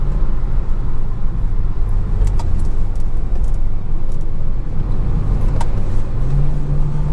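A BMW 340i with the B58 engine accelerating, a loud, steady, close engine drone and road rumble that holds throughout and climbs slightly in pitch near the end.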